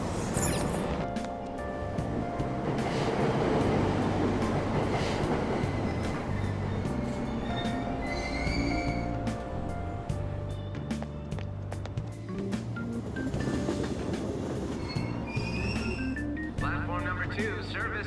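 A subway train in the Persona 5 Royal video game pulls out of a station with rumbling wheels, rhythmic clatter and squealing. Chimes and station announcements sound over the motor noise.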